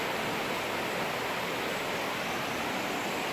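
A creek in the Smokemont area of the Great Smoky Mountains rushes under an old bridge, a constant broadband hiss of flowing water with no pauses or voices.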